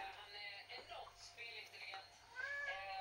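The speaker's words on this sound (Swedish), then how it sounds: "Ja, det är kissen då." A house cat gives a few faint, drawn-out meows, quiet and somewhat distant, with soft background noise and no clear talk over them.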